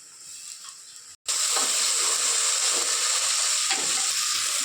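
Ginger garlic paste drops into a hot pan for paya curry after a brief silence and sets off a loud, steady frying sizzle with faint stirring, continuing without pause.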